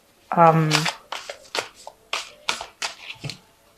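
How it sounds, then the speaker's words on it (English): A deck of Think and Grow Rich prosperity cards shuffled and drawn by hand, a burst of riffling followed by a series of short, crisp card slaps and flicks, close up, with a voice briefly under the start. "I'm going to just draw some cards from the Think and Grow Rich"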